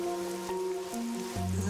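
Steady rain falling in the video game Master Detective Archives: Raincode, a continuous hiss layered under sustained tonal game music with no talking.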